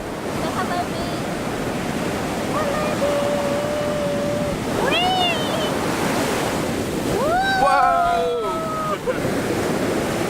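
Ocean waves washing in at an Australian beach, a steady broad roar of surf with wind buffeting the microphone throughout, while people talk over it.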